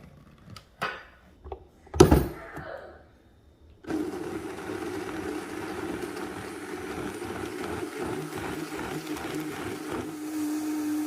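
A blender pureeing a cayenne pepper immunity drink with cracked black pepper starts after a few bumps and a brief burst, then runs as a steady, fairly loud whirring motor until the end.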